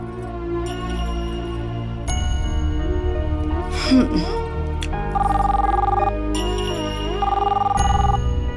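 A telephone rings in repeated electronic bursts that go on unanswered, with tonal ringing patterns and some voice-like sounds mixed in.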